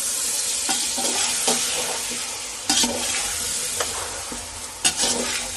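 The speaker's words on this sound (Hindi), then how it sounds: "तो नमक डाल के अच्छे से इसको मिक्स होने देते" Salt gets stirred through biryani in a pan: a loud, steady frying sizzle close by, with intermittent spatula scrapes and a couple of sharp metallic knocks against the pan.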